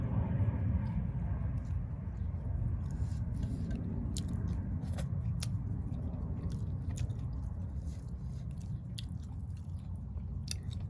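Soft chewing and crunching come from people eating steamed fish outdoors in a backyard garden, with faint crisp bites scattered over a low, steady background rumble.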